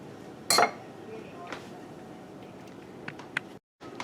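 A short clattering burst as Spam pieces drop into a skillet, followed by a few light metallic clinks of cookware against a quiet kitchen background.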